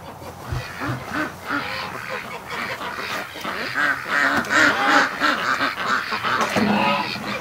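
Ducks, kept alongside geese, quack repeatedly in a loud, busy chorus of overlapping calls from close by, rising and falling throughout with no talking.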